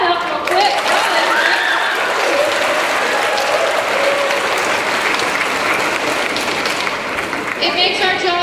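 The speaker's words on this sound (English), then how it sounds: "Let's just clap that up real quick." An indoor crowd gathered for an evening team meeting breaks into sustained, dense applause that holds steady and loud throughout, with a few whoops and voices mixed in.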